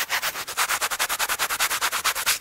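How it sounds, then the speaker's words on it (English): A rough, strong Scrub Daddy sponge scrubs a surface in quick back-and-forth strokes, producing a close, rhythmic series of about twenty harsh rasping swipes at an even pace, with no talk. "you can hear, it's a rough, strong scrubber"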